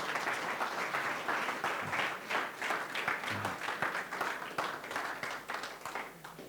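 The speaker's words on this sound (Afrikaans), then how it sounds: "Kom ons gee vir die Here 'n lekker klap op." Congregation at a church healing service breaks into sustained, dense applause, a steady wash of many hands clapping with a few louder claps standing out, no voices over it.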